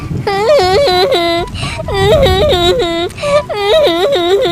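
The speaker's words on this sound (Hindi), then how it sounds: "ये जंगल से इतनी रोने की आवाज कहाँ से आ रही है?" A child's high, wavering cries come from a forest at night in repeated sobbing bursts with brief breaths between, loud and close, sounding like a voice acting out the crying.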